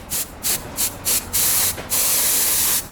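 Aerosol spray can blowing dust off a vintage Veneca Duo camera: five short hissing bursts in quick rhythm, then two longer sustained sprays, close and loud with no talk.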